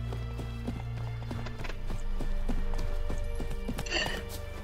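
Horse hooves galloping in The Witcher 3, a steady rapid clip-clop rhythm up close over continuous game ambience and music tones, no talking.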